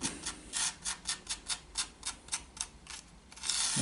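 A fingertip pushes loose N gauge ballast along model railway track in a steady rhythm of about a dozen short, gritty rubbing strokes, close and fairly soft, with a louder rustle at the end; nobody speaks.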